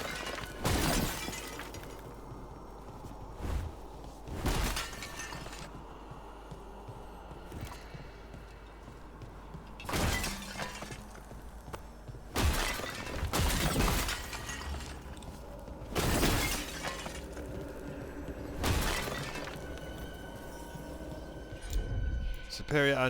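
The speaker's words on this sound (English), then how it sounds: "I'm just smashing all of her pots" Ceramic pots smashing in the video game Dragon Age: The Veilguard, a series of about nine sharp loud shattering crashes spaced a few seconds apart over game ambience and music.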